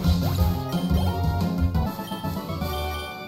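Rock Smash from a Pokémon video game lands as a short series of cracking impact hits over busy tonal game music, moderately loud and mixed in with jingling effects.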